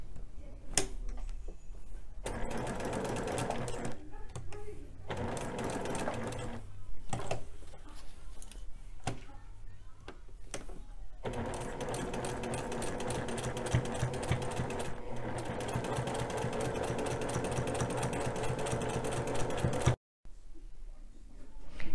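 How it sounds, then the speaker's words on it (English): A sewing machine stitches quilt block pieces together in a fast, steady mechanical chatter. Short runs with pauses come first, then a long continuous run, heard close and alone. "I will go ahead and add and sew that side on."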